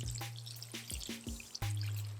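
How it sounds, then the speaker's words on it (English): Water pours onto a freshly planted garden bed in several short splashing bursts with brief pauses, close and moderately loud. "Same thing, we're gonna water that in."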